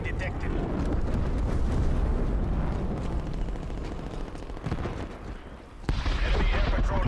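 Heavy artillery barrages boom and rumble in the Call of Duty zombies game, a dense continuous roar of explosions with one sharp blast near the end.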